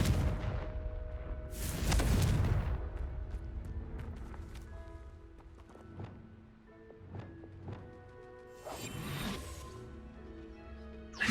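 A Confringo blasting spell goes off in Hogwarts Legacy, with two rumbling explosive bursts several seconds apart over game music and scattered impact effects.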